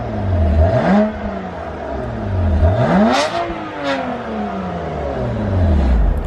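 Car exhaust revving through Active Autowerke stock non-resonated downpipes with the valves closed: several loud rising and falling revs close by, no talk.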